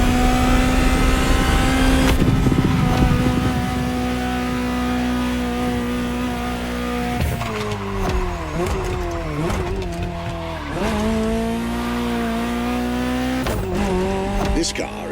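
A Ferrari GTO driven in the racing game The Crew Motorfest: a steady engine drone that rises and falls with gear changes and revving, with tire squeal, under continuous narration.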